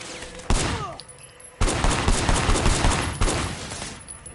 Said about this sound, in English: was a shooter, firing shots from the passenger window